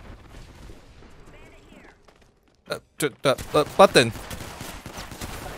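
Close range gun in a video game firing a quick series of sharp, punchy shots, about six loud bursts in fast succession after quieter game noise, with a brief spoken shout before them.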